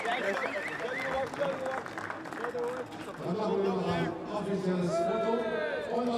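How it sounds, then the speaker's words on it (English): Applause from the crowd at a GT4 European Series race podium ceremony at the Nürburgring, steady and continuous throughout, with a commentator talking over it. "So huge applause all round"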